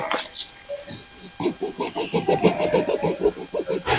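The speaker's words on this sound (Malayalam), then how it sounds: "ഞാൻ ആക്സൽ പ്ലേഡ് എടുത്തോണ്ട് വന്നിരിക്കുക ഇതിനെ നമുക്ക് ഇവിടുന്ന് അങ്ങനെ മുറിക്കാം" A hacksaw blade cuts through a China doll plant stem with rapid, rhythmic rasping strokes, close and fairly loud.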